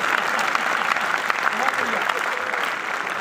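Audience at a Hindi poetry recital applauding steadily throughout, a dense continuous wash of clapping at moderate level with some voices mixed in.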